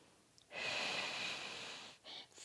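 A single long, breathy exhale through the mouth during a core exercise, close and soft, lasting about a second and a half, followed by a short second breath.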